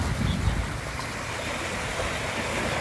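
Ocean waves on a beach, a broad continuous wash of surf with a low rushing roar, steady and fairly loud with a slight surge near the start.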